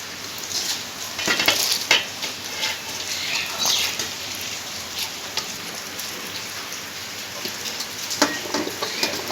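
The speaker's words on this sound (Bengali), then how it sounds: "এরপর একে একে সবজিগুলো আমি দিয়ে দিচ্ছি" Vegetables for Bengali khichuri land in hot oil in a pan and fry with a busy, rain-like crackle, louder bursts where pieces go in, then a steady sizzle over nearly ten seconds with no talking.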